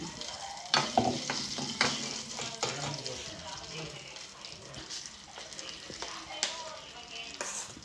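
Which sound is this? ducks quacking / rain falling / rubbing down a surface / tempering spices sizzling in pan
tempering spices sizzling in pan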